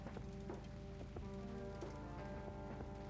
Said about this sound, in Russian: Я не знаю, дождь идет.